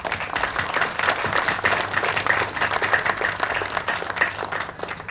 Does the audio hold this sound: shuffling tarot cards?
no